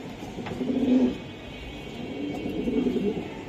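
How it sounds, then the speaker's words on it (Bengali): Pair of Chila pigeons cooing softly in a loft, low rolling coos swelling twice over a faint background hum. "তারেক ভাই সিলা কবুতর তাই না ভাই?"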